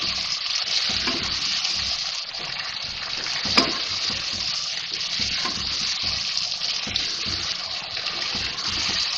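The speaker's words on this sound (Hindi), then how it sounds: "अब मैं ये टमाटर डाल रही हूँ इसमें। फिर भूनेंगे इसको।" Tomatoes fry with beef liver in a pan, giving a steady, loud hiss with a brief clatter around the middle and no voices over it.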